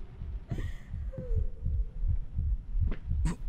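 Heartbeat sound effect in the horror game Layers of Fear, a steady series of deep, muffled thumps about twice a second, loud and close, with a few faint higher eerie tones drifting over it.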